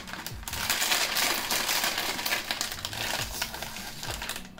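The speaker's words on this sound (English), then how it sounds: "This is some serious foil." A thick foil corn chip snack package from South Korea being pulled and torn open up close, with continuous loud crinkling and crackling of heavy foil and no talking.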